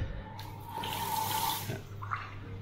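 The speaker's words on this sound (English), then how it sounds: "They do have running water with high pressure water, so it's really good." High-pressure water gushes steadily from a tap in a hotel bathroom in Cambodia, a close, continuous splashing rush with slight changes in flow and no speech.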